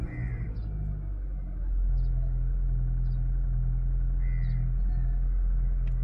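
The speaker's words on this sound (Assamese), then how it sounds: "আৰু বাকি এবাৰ ইঞ্জিনটো স্টাৰ্ট কৰি দেখা দিছো কেনেকা হৈ আছে" A second-hand car's engine starts and settles into a steady low idle rumble close by, with crows cawing intermittently in the background.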